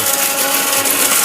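A low-priced mixer grinder blender runs steadily at full power, a loud continuous whirring motor drone with no pauses or talk.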